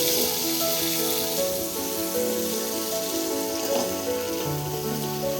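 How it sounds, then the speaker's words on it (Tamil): Onions and capsicum sauté together in a pan for homemade chilli chicken, giving a steady, even sizzle that runs throughout beneath background music. "இது கொஞ்ச நேரம் வதங்கட்டும்."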